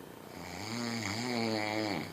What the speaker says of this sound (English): You said you didn't snore that loud.